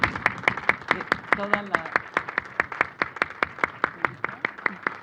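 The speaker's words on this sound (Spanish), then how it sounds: "un aplauso" Clapping at the closing session of an academic panel, with a steady train of sharp, evenly spaced claps through the whole clip and a speaker's voice briefly over it.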